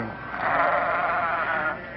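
A sheep in a laboratory pen gives one sustained, wavering bleat lasting about two seconds, close and fairly loud.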